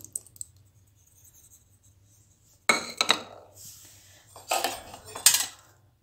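Dosa batter mixed with salt and curd in a bowl: after a quiet start, a spoon scrapes and clinks against the bowl in two short bursts of brisk stirring, close and fairly clear.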